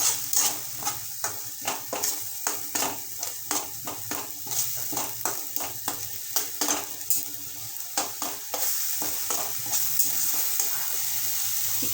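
Ground spices frying in a pan with a little water added, sharp rhythmic scrapes and clinks of stirring over a continuous sizzle that swells louder toward the end.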